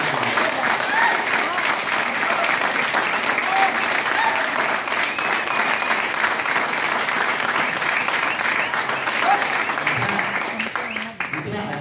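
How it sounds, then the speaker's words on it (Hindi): Sustained, loud applause from an audience at a company gathering in India: a dense wash of clapping that holds steady for around ten seconds, then tapers slightly at the end. "उनके लिए जोरदार तालियां बजाइए।"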